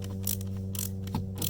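Screws being driven back into a kayak transducer mount on a 2019 Hobie Outback give a ratcheting, gear-like clicking over a steady mechanical hum, close and moderately loud with no talking.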